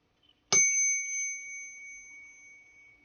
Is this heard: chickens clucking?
no